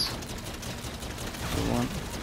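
Rapid gunfire from the Shaolin Shuffle zombies game rattles continuously at close range, dense and steady, with players talking over it.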